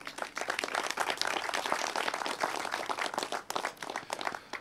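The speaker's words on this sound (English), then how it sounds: "they deserve a round of applause for all they do" Steady audience applause at a Masonic lodge's 100th anniversary celebration, many hands clapping at moderate volume with no talk over it.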